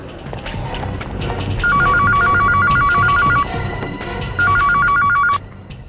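A telephone rings in two long bursts of rapid electronic trilling, loud and close, the second burst following a short pause, over a busy background of movement and room noise.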